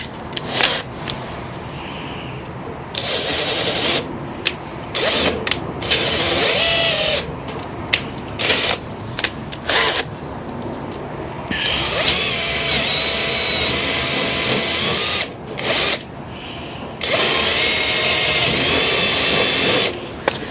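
A power drill enlarges holes in a metal compost spreader with repeated loud whining bursts, close up, broken by short pauses between runs and rising in pitch when the bit bites.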